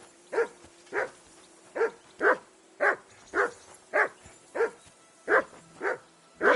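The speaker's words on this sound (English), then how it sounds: "That barking was a pain in the ass." A dog in the video game Kingdom Come Deliverance 2 barks about eleven times in a steady, evenly spaced rhythm, close and alone.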